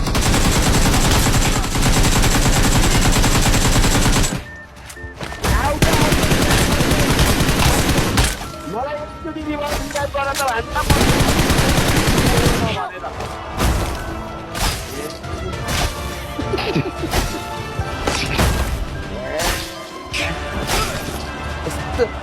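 Rapid bursts of PUBG Mobile gunfire and crashing impacts play loudly and almost continuously, while someone talks excitedly over the action.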